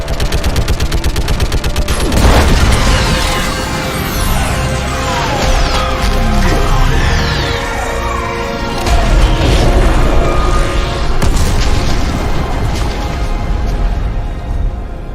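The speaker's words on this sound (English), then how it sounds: "I need an orbital strike." Orbital strike explosions in the Mass Effect 3 video game: a loud, dense, continuous barrage of booms and blasts with rattling gunfire-like bursts that never lets up.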